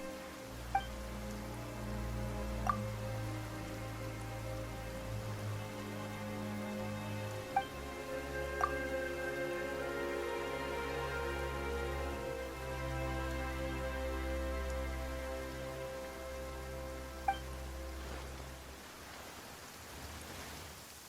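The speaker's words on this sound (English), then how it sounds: "Why is it raining all of a sudden?" Sudden rain in the video game Genshin Impact makes a soft, steady patter under low, droning background music, with occasional faint chimes and no talking.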